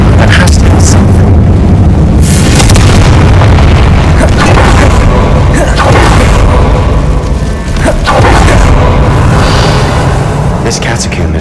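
In Hogwarts Legacy, a Confringo spell goes off inside a decaying stone catacomb, producing a loud, booming fiery blast followed by continuous heavy rumbling and crackling debris at close range, with further thuds layered on top.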